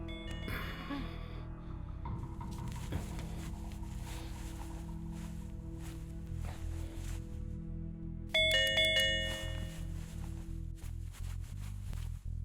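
A doorbell rings with a bright electronic chime partway through, set against a loud, ongoing dramatic background score, and there is no talk.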